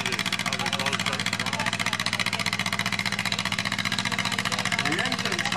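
Antique tractor straining under load at a fair tractor pull, a steady rumbling engine with fast regular pulsing held throughout, moderately loud, with people talking faintly over it.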